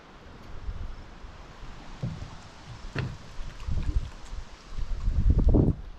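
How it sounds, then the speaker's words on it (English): Gusty wind buffets the microphone in low rumbling bursts at a campground at Bear Head Lake State Park, growing stronger toward the end, with no one talking. "It's pretty windy."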